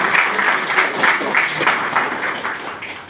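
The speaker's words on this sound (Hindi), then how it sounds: "मैं चाहूंगा दोनों को एक बार जोरदार तालियां मिस्टर" An audience gives loud, enthusiastic applause for two achievers at a health company event, the clapping close and dense with a slightly pulsing rhythm, continuing without talk.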